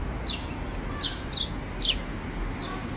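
Several short, high chirps from a small bird, scattered over a few seconds against a steady low background hum.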